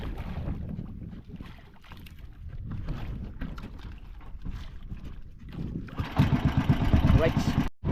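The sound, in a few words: boat engine running on the water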